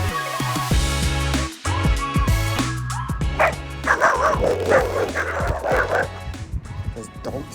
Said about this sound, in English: Dogs just start barking at me and everything.